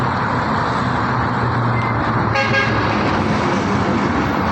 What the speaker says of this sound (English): Noisy on this road, sorry.